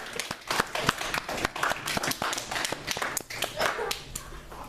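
A church congregation at a Christian service claps to acclaim Christ, dense and uneven, fairly close, with voices mixed in.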